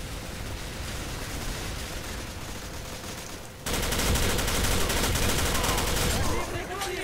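Rifle gunfire in the Arctic Combat video game, a continuous dense barrage that grows louder and heavier midway, sustained for several seconds.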